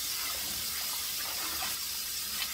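Freshly washed turnip and mustard greens drain in a kitchen tub, with water pouring off them in a steady, close rushing stream that stays constant throughout, and no talking.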